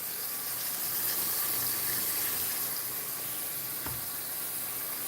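Water pours steadily from a kitchen tap into a container, a constant broad hiss and splash at close range without speech, with one brief knock partway through.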